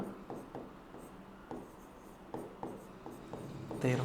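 A pen scratches out handwritten letters in short, repeated strokes on paper, close and fairly quiet, with brief pauses between marks.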